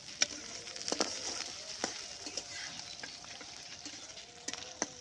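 Chopped onions and green chilies frying in oil in a village kitchen pan, a soft continuous sizzle broken by occasional sharp spatter pops and stirring clicks, fairly quiet and without talking.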